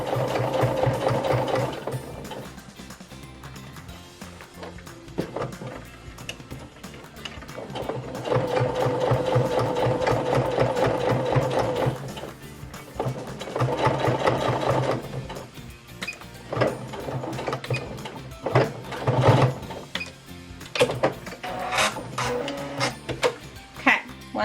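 Sewing machine stitching replacement elastic into a Lalabye baby carrier, running in long steady bursts with short pauses between seams. Its rapid needle clatter stays close and fairly loud, with a few sharper clicks near the end.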